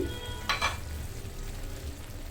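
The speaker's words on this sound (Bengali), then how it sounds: "এভাবে নেড়ে দিয়ে ঢেকে রেখে দিব এখন" Mixed vegetables for a Bengali wedding-style dish sizzle steadily in a pan, with a brief burst of stirring scrapes near the start, then a quieter continuous fry.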